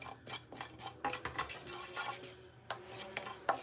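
Turmeric stirred in a pan over a flame, starting to smoke: a steady run of spoon scrapes and metallic clinks against the pan, with a faint sizzle and no talking.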